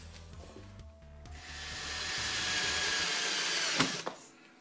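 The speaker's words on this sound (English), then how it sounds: "And drilling the pilot hole first." Power drill boring a pilot hole into the front strut of a W639 Mercedes Vito, after centre punching and greasing the spot; a steady whining drill sound rises and holds for a few seconds before stopping with a couple of clicks.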